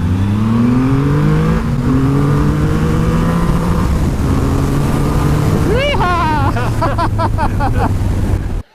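A Triumph Rocket 3 motorcycle with a 2.5-litre, 170-horsepower engine accelerates hard, its deep exhaust note rising through several gear changes amid heavy wind rush, with a voice exclaiming over the roar.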